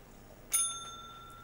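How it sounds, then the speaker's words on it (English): A single bright bell ding from an Atari 8-bit video game rings out and lingers with a clear metallic tone, alone against a quiet background. "Ring the bell."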